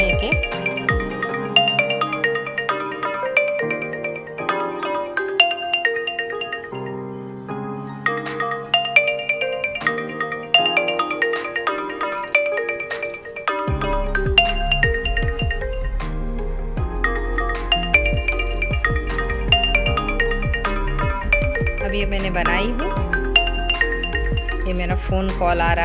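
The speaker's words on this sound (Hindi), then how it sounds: "फ़ोन कॉल आ रहा है" An incoming call sets off a phone's melodic ringtone in a home kitchen, playing loud and continuous with repeating tuneful phrases that grow fuller partway through.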